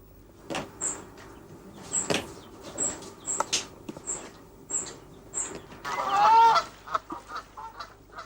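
A mother duck and her ducklings at a wildlife rescue centre give a steady series of short, high peeping calls. Soft thumps and rustles are mixed in, and a louder call comes near the end.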